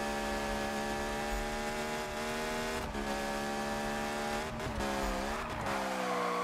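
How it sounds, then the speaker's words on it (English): A car drifting in Need For Speed, its engine holding a loud steady drone while the tires squeal continuously, with short shifts in pitch as the slide changes, no talking. "I drifted. That was pretty."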